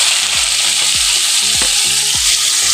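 Chopped onion frying in hot oil with dried chillies, a loud, dense sizzle throughout with repeated low thumps and scrapes from stirring, close and with no talking.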